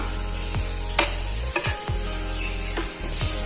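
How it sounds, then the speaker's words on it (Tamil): Masala for a coconut fish fry crackles steadily in oil on a small stone pan, with a few scraping stirs and clinks breaking through the close, continuous sizzle. "இப்போ மசாலா நல்லா எண்ணெயில ஃப்ரை ஆயிடுச்சு"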